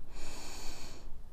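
A single deep breath drawn in through the nose during a yoga session, a close, breathy inhale lasting about a second before fading.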